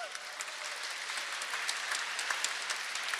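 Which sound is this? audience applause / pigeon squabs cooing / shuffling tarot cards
audience applause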